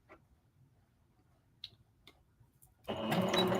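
A sewing machine tacks down soft fabric while a skirt is turned into palazzo pants, starting after a few faint ticks and running loud and steady through the last second.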